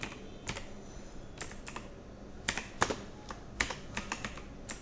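Keys on a computer keyboard clack in irregular bursts of close, crisp strokes, with brief pauses between runs and no talking.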